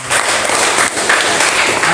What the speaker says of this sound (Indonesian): Mari kita beri tepuk tangan untuk semua.